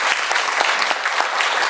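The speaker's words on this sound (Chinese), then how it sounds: "请大家掌声鼓励一下" Audience applause at a company meeting in a hall, a dense steady burst of many hands clapping loudly and evenly throughout, no voices over it.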